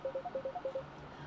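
A phone rings during a Facebook live, a short run of quick electronic ringtone beeps, about eight clipped tones in under a second, moderately loud with no talking.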